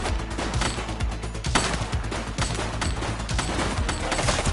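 Gunfire in The Precinct game: a dense, rapid volley of shots, steady and loud for the whole stretch, with no voices heard.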